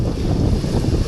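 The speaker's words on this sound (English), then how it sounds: "Really windy." Strong wind buffeting a microphone outdoors, a loud continuous roar and rumble filling the whole short moment with no voices.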